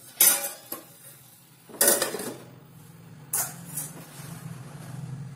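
A metal lid goes onto a pan of besan shimla mirch, bell pepper curry with gram flour, making three separate clattering clanks a second or two apart, close by, with quiet room tone between them.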